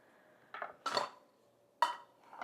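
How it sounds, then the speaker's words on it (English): Pine nuts, garlic and basil land in a food processor bowl in a few quick, light clattering knocks, close and fairly quiet with short pauses between them. "I'm gonna drop those in the food processor because we're gonna process the pine nuts, garlic, and the basil together first."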